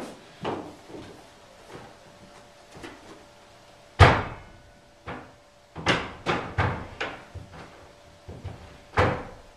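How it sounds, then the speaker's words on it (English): A wall bed face is lifted into its cabinet, producing a series of wooden thuds and knocks, one loud bang, and several sharp bumps spaced irregularly, all close by. "The next step is to lift the bed face into the cabinet."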